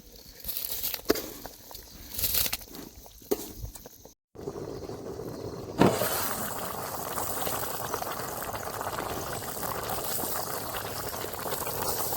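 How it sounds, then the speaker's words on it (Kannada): Water boiling in a pot for chicken biryani, a steady bubbling hiss close by, broken by a few clinks and handling sounds early on, then a continuous loud rolling boil. "ಚಿಕನ್ಗೆ ಹಾಕಿರೋ ನೀರು ಕುದಿತಾ ಇದೆ"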